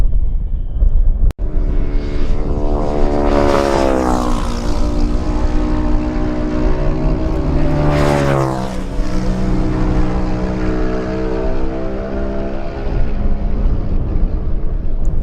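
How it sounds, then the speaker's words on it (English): A Kawasaki racing motorcycle in a lightweight road race roars past with a rising then falling engine note, loud and close, followed by a second pitch sweep as it screams away, with no talk over it. "David Quine comes through on a Kawasaki"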